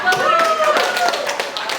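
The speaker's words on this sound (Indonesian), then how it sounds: "Kita beri tepuk tangan yang meriah untuk ketiga." Classroom applause for three prize winners, brief close clapping from a group of students mixed with talk and a faint tonal hum.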